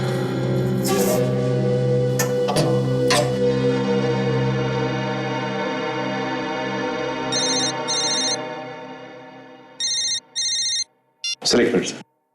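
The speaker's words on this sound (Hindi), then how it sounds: "बार बार क्यों फोन आ रहे हैं इसके?" A telephone rings in a tense police-drama scene: bursts of electronic ringing arrive in two or three separated pulses after a stretch of background music and speech, then cut off near the end.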